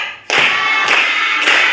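Children in a classroom clapping in time, three sharp, loud, evenly spaced impacts about half a second apart, each with a short ringing tail.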